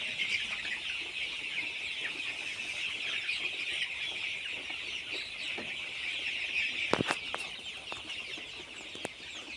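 Chickens in a poultry farm, a dense constant chorus of clucking and chirping from many birds at some distance, with a few brief knocks near the end.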